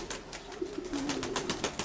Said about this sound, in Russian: Голубь?